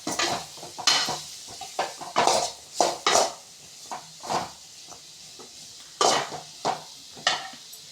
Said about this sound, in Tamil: போட்டுட்டு நல்லா வதக்கி கிளறி விட்டுக்குவோம்.